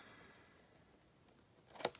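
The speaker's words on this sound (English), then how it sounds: "so I'm just going to round the corners" A single quick snip of scissors rounding a paper corner near the end, sharp and close, after a quiet stretch of faint room noise.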